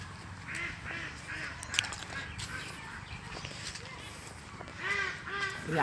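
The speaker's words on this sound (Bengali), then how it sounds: "সামনে দেখতেছি অনেক হাঁস।" Ducks on a village pond give short bursts of quacking, a few calls early and another cluster near the end, over steady outdoor background noise at moderate distance.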